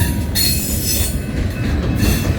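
A diesel-hauled train on the KRR line in Oklahoma, with GP40-2 locomotives, rolls past on the tracks as a loud, steady, close rumble and rush of wheels that holds throughout, with no talk.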